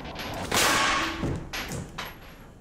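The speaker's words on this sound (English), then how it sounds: "it just ignited the gas" Gunshot fired into a tank filled with hydrogen gas, igniting it: a sharp loud burst followed by a rushing whoosh and a few fainter thumps, no voices.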